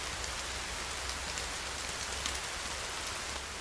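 Steady, even daytime rainfall in the video game The Forest, hissing without a break, a soft continuous patter with no voices or other sounds.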